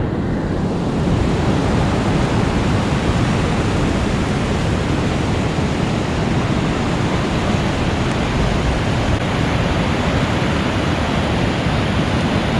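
Ocean surf breaks along the misty, rainy Oregon coast at Cape Lookout, a constant loud, rushing roar of waves with some wind noise and no talking.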